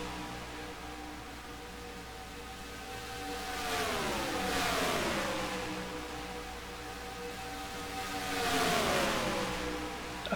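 Stock cars race at Las Vegas in the NASCAR Racing 2003 simulation, with a steady engine drone building as two cars pass close by in turn, their pitch sweeping down around the fourth and ninth seconds.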